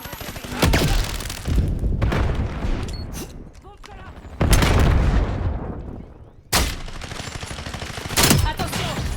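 Video game firefight with grenade blasts and gunfire: heavy booming explosions and bursts of rapid automatic fire crowd together in loud waves, with short lulls between them.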